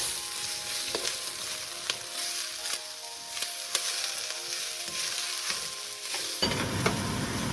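Shrimp stir-frying in a pan, a steady close sizzle with periodic scraping strokes of the spatula, fairly quiet and without talk, ending in a louder burst of frying.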